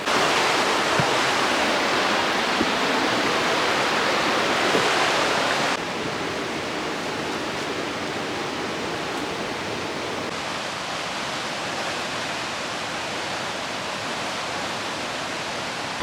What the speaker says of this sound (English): I think there might be a waterfall over here